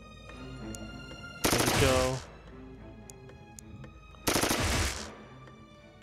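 Two loud sniper gunshots from the video game Xenonauts, several seconds apart, each a sharp blast with a short decaying tail, over a background game hum while someone speaks briefly.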